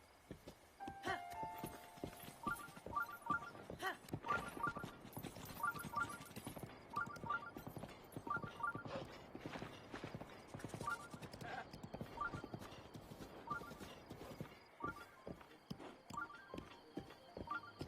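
A horse in Breath of the Wild trots with steady, rhythmic clip-clopping hoofbeats, fairly faint and close, alongside chiming game sound effects and background music.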